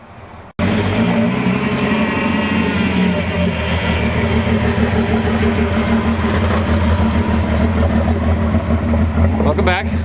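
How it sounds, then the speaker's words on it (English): A loud car engine idles in a deep continuous rumble, steady and close after a sharp start, with faint voices underneath. "I can hear this man's car from a mile away."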